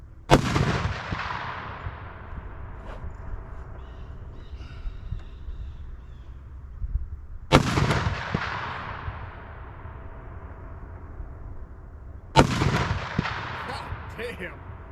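.50 caliber rifle shots fire at concrete, three loud, sharp booms spaced several seconds apart, each with a long rolling echo, with faint bird calls between them.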